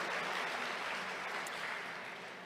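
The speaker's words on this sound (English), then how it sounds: "Let's give a big round of applause to Papa Pablo's one more time" Steady applause from a luncheon crowd at a city's state-of-the-city address, soft and distant, tapering slightly toward the end.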